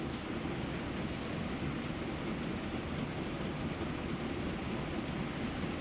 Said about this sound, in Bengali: খুব জোরে বেশ বৃষ্টি শুরু হয়ে গেছে